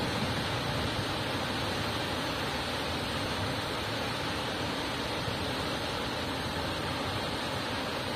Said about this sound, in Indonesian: sungainya sangat deras sekali